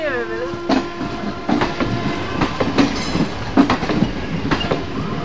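A WAP4 electric locomotive and train pass close by, giving repeated rhythmic clanks and wheel clatter over a steady rumble. A squealing tone sweeps at the start, with a hum.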